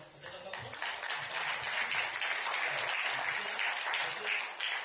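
Audience applause at a sustainability dialogue honoring a vice chancellor, a steady wash of clapping, moderately distant and fairly quiet, with faint voices underneath.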